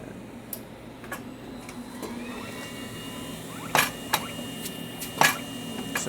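CRON ECRM computer-to-plate machine starting an imaging sequence, a steady mechanical hum with faint whirring and a handful of sharp clicks and clunks near the end.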